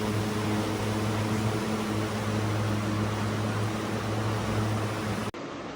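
An air cooler motor runs at speed setting 3 under an Amonics smart cooler controller, a loud, steady hum and rushing fan drone that continues unchanged until it cuts off abruptly near the end.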